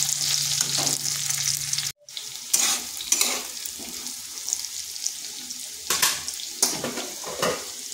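Vegetables lightly browning in oil in a pan, sizzling and crackling steadily up close, with stirring scrapes, a brief cut to silence partway through, then more bursts of frying noise.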